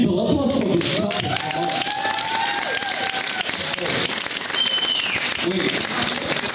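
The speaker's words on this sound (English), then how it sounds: "applause for this couple" Audience applause for a couple at a comedy show: dense, continuous clapping and crowd noise from a large room, with some cheers and whistles rising through it.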